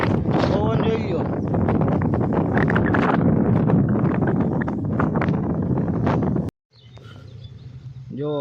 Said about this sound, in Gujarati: પવન જોઈ લો.